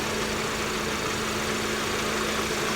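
A 2012 Hyundai Sonata's engine idles with a steady, low hum evenly throughout with a constant droning tone, fairly quiet and with no voices.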